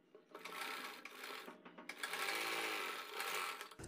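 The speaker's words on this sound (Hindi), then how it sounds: "मिलाने के बाद में 1/4 इंच का मार्जिन लेते हुए सिलाई लगा देंगे" A sewing machine runs in short quiet bursts as it stitches fabric with a quarter-inch seam allowance while a kurti or blouse sleeve is joined, whirring with a brief pause midway.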